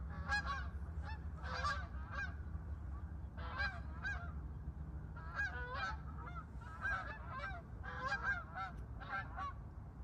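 Canada geese on the water honk in irregular bursts of repeated calls, several birds overlapping at moderate distance over a low steady background rumble.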